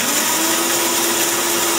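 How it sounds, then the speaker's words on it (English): A blender runs at full speed, making a loud, continuous, steady whirring roar throughout with no pauses or voices. "Oh, alright, it was a blender."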